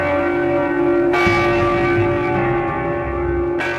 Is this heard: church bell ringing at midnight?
yes